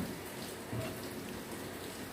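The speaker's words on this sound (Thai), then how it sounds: "แล้วเสียงฝน" Steady rain patters on a surface, soft and distant, a continuous hiss of drops with no voices.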